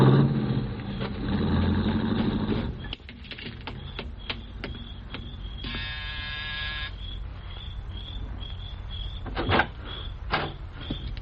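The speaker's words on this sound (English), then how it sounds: "An hour later, he came out and drove off again." A rented car's engine starts and drives off in an old radio drama, a rumbling motor that cuts off abruptly, followed by sparse clicks and a brief buzzing tone.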